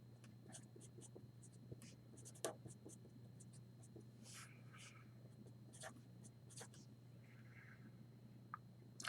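A pen or stylus scratches and taps while a chemical structure is drawn, giving faint, irregular strokes over a steady low hum, with occasional soft clicks.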